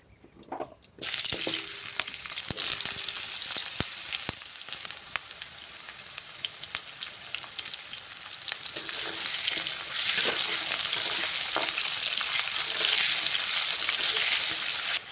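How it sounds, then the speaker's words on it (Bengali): Potatoes sizzle and crackle steadily in hot oil, a loud, continuous frying hiss with occasional stirring sounds and no talking. "এবার আমি আলুগুলোকে দিয়ে ভেজে নেবো"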